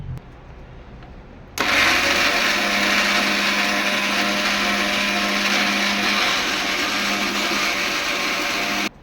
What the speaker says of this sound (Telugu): ఇది చిన్న జారీలో వేసుకుంటున్నా, మెత్తగా రావాలా ఉంటకు.